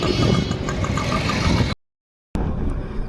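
A motorbike engine drones steadily while being ridden on the road toward Ahmedabad, a close, continuous rumble that drops out into a short stretch of silence before resuming.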